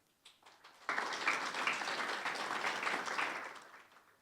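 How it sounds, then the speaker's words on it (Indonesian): A church congregation bursts into applause at a Sunday service, the clapping starting abruptly after a brief pause, holding steady and dense from many hands, then tapering off near the end. "Boleh tepuk tangan buat Tuhan gak?"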